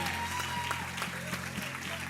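An audience at a Christian revival conference breaks into applause, a dense, steady clapping that fills the whole clip, while a voice speaks over it in the hall.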